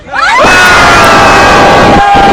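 A live rap battle crowd at a Bisaya conference erupts into loud cheering and screaming, swelling quickly and holding at full volume, with whistles cutting through the roar.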